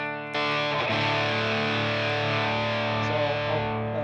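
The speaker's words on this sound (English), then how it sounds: "The distortion is all the way up." An electric guitar chord rings through a distortion pedal with the gain turned all the way up, struck once and sustained thick and buzzing for several seconds at steady loudness, with no talking.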